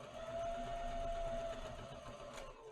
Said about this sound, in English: Okay, just keep sewing it all the way down.